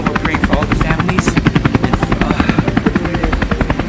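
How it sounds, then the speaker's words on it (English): A helicopter close by, its rotor chop loud and steady in a fast, even pulse throughout, with a voice speaking faintly beneath. "the chopper behind me is about to head to Ukraine"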